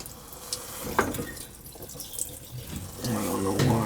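Water runs and trickles out of an old taco circulator that keeps blowing fuses, a steady close splashing flow with a few drips, swelling louder toward the end.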